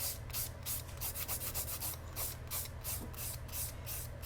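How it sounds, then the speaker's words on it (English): A nail file rubbed quickly back and forth over a nail surface to smooth it, giving a close, rapid, even rasping rhythm of short strokes throughout. "I'm just filing quickly"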